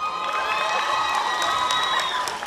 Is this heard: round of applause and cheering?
yes